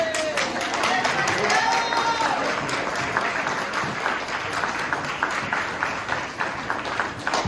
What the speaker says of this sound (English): give this man a thunderous round of applause